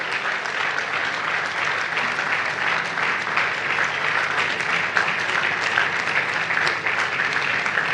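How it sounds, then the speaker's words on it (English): A conference audience at a data festival applauds steadily and loudly, a dense, continuous wash of many hands clapping close by that holds at an even level throughout, with no voices rising above it. "I need that clap to be louder."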